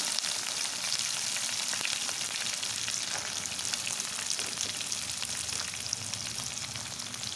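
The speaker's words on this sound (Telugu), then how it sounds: "పచ్చిమిర్చి, కరివేపాకు, అలాగే ఆనియన్," Green chillies, curry leaves and onion sizzle steadily in hot oil for a coastal Goan fish meal, a dense continuous frying hiss with small crackles and pops throughout, close and fairly loud with no voices.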